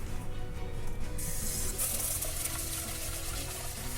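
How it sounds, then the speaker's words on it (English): Rice is washed in water in a kitchen, a soft, close swishing and trickling that brightens into a steadier splashing spray partway through. "first I'm gonna wash the rice as normally I do"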